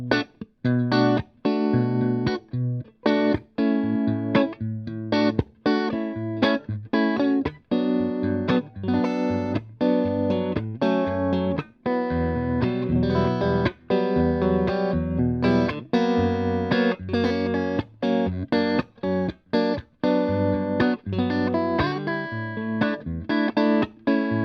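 Electric guitar played through a Magnatone Twilighter amplifier, a Stratospheric guitar, with distorted, effects-laden chords and riffs ringing out loud and steady, close and alone with no talk.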